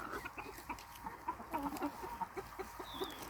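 Desi and cross-breed hens on a farm cluck in short, scattered bursts nearby, a busy low flock chatter with no talking.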